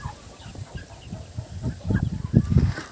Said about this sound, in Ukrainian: Тут є тижневі курчатка, а тут ще старшенькі.